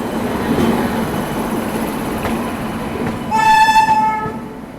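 Bhiwani–Prayagraj Kalindi Express pulling out of Kanpur Central station: a steady rumble of rolling wagons with a loud, sustained horn blast near the end.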